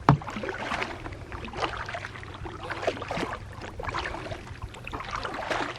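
Canoe paddling on the Ochlocknee River: close, unhurried paddle strokes splash and swish through the water in a steady one-two rhythm, with light dripping and soft knocks against the hull.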